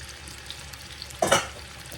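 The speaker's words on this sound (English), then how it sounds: "Got me a good bit of oil in just the bottom of my skillet, but I want to get my potatoes going in there first" Potatoes drop into hot oil in a skillet, and a sudden loud sizzle bursts up, then fades back to a low crackle.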